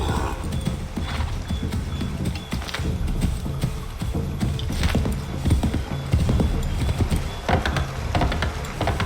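Horse hooves gallop in the video game Assassin's Creed III, a busy rapid clip-clop with mechanical rattling and clattering layered over it, steady throughout at close range.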